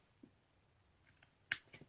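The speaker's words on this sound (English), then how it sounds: "I'll just come along with my scissors" A few crisp scissor snips cutting a fringe in quick succession, one clearly louder, against near silence.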